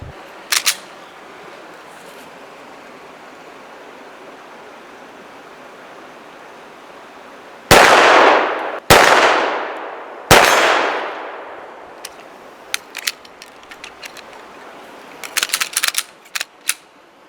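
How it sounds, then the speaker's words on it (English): Three 9mm pistol shots fired at a newly built outdoor shooting range: loud, sharp cracks about a second apart, each trailing off in a ringing decay, with faint scattered ticks before and after and no talking. "I'm going to fire a couple shots in 9mm"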